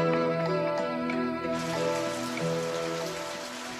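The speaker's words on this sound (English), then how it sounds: "It started to rain." Rain falls in the video game Radiant Historia: a broad, steady downpour swells in about halfway through over sustained orchestral music, then both fade slightly toward the end.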